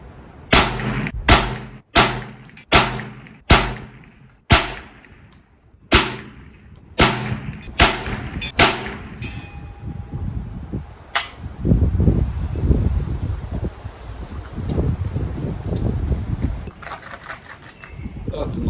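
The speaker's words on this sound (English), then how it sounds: "Nothing like plinking with 22s." A Ruger 10/22 carbine firing .22 rounds outdoors, about a dozen sharp, loud cracks in an irregular rhythm, followed by a stretch of rustling handling noise and wind.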